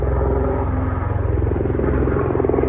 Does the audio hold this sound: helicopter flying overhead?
yes